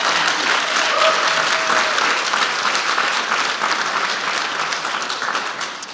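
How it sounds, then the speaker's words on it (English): Loud, continuous applause from an audience at a business recovery event, a dense wash of clapping that holds steady and tapers off only at the very end. "Let's clap for the state."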